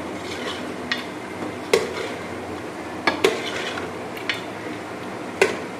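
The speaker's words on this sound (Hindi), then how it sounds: "अब इसको फ्राई करेंगे।" Food fries with a low, even sizzle in a karahi pan, punctuated by occasional sharp metallic clinks of a spoon against the pan, close and steady.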